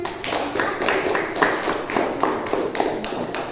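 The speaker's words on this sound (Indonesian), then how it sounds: "Tepuk tangan." Classroom applause after a teacher's prompt, a short burst of irregular hand claps and taps from a small group of students, fairly close and steady throughout with no talking over it.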